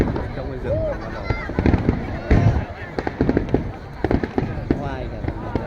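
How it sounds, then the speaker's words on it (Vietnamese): Fireworks burst over Tokyo at an organised display, crackling pops and whistling rockets popping in quick irregular volleys at a moderate distance, while people talk nearby throughout. "Hàng năm chính phủ Nhật Bản tổ chức bắn pháo hoa tại đây."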